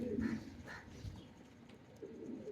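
Ferozpuri and Rampuri teddy pigeons, a triple-cross line with golden cross breeding, coo softly in a few short low bursts, moderately close and otherwise fairly quiet.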